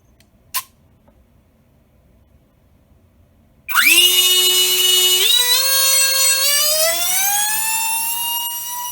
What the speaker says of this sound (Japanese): EDF 真横15センチの距離で110デシベル、相当にうるさい印象です。